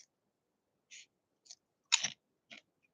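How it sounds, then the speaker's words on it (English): Kettle chips crunch during close-up chewing in a few separate bites, with short crisp cracks spaced about half a second apart and one louder, fuller crunch near the middle. "That crunch? It's that thing about kettle chips."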